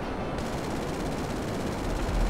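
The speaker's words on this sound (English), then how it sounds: "I fired a minigun in the street." Minigun in Grand Theft Auto fires a continuous, loud, dense stream of rapid shots throughout, a steady roaring rattle with no pauses.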